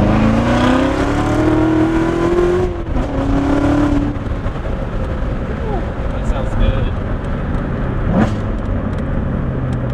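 A C7 Z06 Corvette fitted with a Borla X pipe revs its exhaust up and down, the engine loud and close, while people talk over it.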